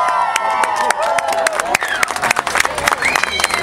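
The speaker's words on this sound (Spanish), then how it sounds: "¡Fuerte, fuerte el aplauso!" Audience at an anime event prize award clapping vigorously, sharp, dense applause with cheering mixed in, loud and close, with voices over it.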